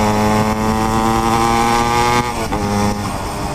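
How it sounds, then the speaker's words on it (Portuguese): A Yamaha DT200R two-stroke motorcycle with a Gemoto exhaust revs up close, a raspy buzzing engine note that holds high, dips briefly and then climbs again. "Ronquinho bonito do G-Moto"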